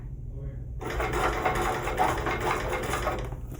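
A sewing machine stitches across the front of a soft shoulder bag, its rapid mechanical chatter starting after a short quiet moment and running steadily and close to the end while a person talks over it.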